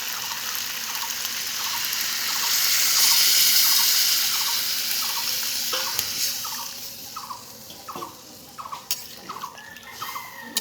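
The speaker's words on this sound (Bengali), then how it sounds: "কাঁঠালের রেসেপটা আমার ভালোভাবে কষানো হয়ে গেছে এবার আমি পানি দিয়ে দেবো" Water is poured into a pot of raw jackfruit curry cooking on a clay stove, a rushing gush that swells and then settles into lighter splashing and bubbling with faint clicks.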